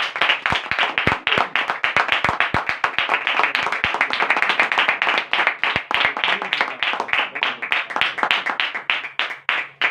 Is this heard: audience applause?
yes